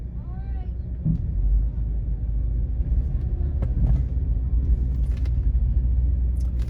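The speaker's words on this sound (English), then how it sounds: "Traffic jam here." Stop-and-go traffic on Ocean Boulevard in Myrtle Beach gives off a steady low rumble of idling and creeping cars, close and continuous, with voices talking over it.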